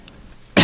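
A single sharp cough bursts out abruptly near the end, close and loud, from an audience member at a presentation in an otherwise quiet room.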